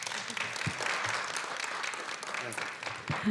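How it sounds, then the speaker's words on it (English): A crowd applauding steadily at a board of education meeting honoree recognition, a dense wash of clapping that holds at an even level for a few seconds. "Let's clap for Garrett."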